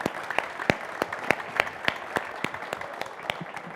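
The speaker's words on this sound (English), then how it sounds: "give a big round of applause to our panelists" A small audience claps for panelists at a youth sustainability dialogue, with sharp, distinct individual claps at a regular rhythm over a low steady wash of clapping, close by.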